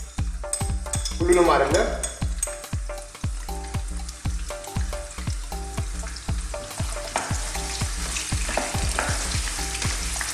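Ginger and garlic sizzle loudly in hot oil in a pan, with steady rhythmic scraping strokes of a utensil stirring throughout and a brief voice speaking over it.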